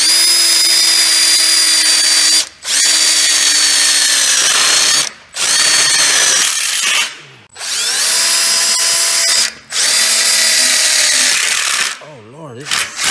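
A power drill drives screws into bending steel studs while building an outdoor kitchen, with four long, loud whining bursts separated by brief pauses and a wavering, straining pitch near the end.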